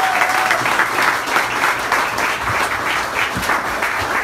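A studio audience applauds a Montreal singer at a live music showcase, a dense, steady wash of clapping that holds at full strength throughout.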